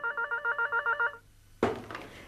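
A room telephone in a domestic drama setting rings in a steady repeating pattern of short bursts, fairly close, then stops; a brief louder clatter follows, with no talk.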